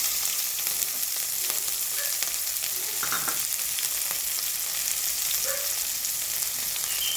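Cumin seeds and green chilli pieces crackling in a little hot oil in a heated pot, a continuous bright sizzle with faint spatters and pops, close and steady, no talking.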